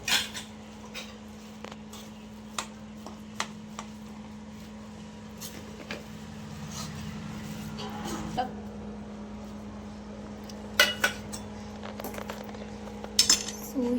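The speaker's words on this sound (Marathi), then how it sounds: "आणि पूर्ण आपल्याला हे मिक्स करून घ्यायचं आहे" A spoon clinks and scrapes against a bowl while mixing vada filling with turmeric, coriander and salt, making sparse, fairly quiet metallic taps over a steady low background hum.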